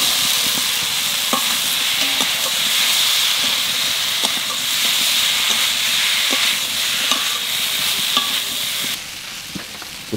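Young jackfruit and potato stirred and fried in a pan, giving a steady loud sizzle and hiss with scraping stir strokes throughout that drop off slightly near the end.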